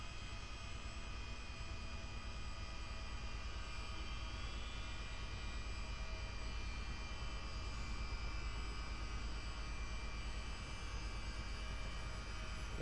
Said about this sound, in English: start up engine one.